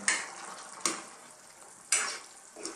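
Sautéed bottle gourd (upo) with bay leaf being stirred in a pan, close scraping strokes of a spoon against the pan in three or four bursts over a soft steady sizzle.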